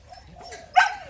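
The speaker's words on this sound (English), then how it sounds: "That dog is so big" At a dog park, a dog gives one short bark near the end, preceded by faint whimpering or yipping over low background noise.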